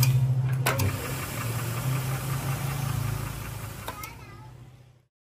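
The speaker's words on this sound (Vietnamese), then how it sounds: "Motor này MP khá là tốt. Phát đấy." A 3 HP electric motor turning a Hyundai T30 head runs with a steady, loud mechanical hum and faint knocking, a few sharp clicks over it, before cutting off abruptly near the end.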